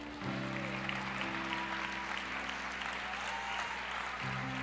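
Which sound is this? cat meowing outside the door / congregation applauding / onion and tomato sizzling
congregation applauding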